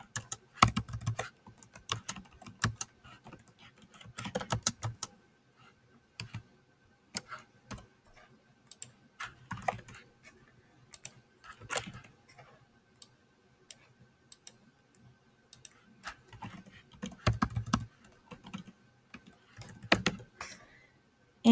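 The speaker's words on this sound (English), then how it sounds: "so I'll type my question here." Keys on a computer keyboard are typed in quick bursts with short pauses between them, close by and fairly quiet, with no voices heard.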